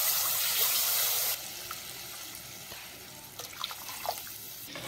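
Water is poured from a glass into a cooking pan of tomatoes for masoor dal, a steady splashing gush that cuts off partway, followed by quieter dripping and small sizzles.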